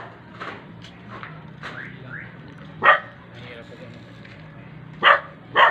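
An askal, a Filipino street dog, barks outdoors in several sharp, separate yaps, with the loudest ones near the end and quieter whimpers between. People talk faintly in the background.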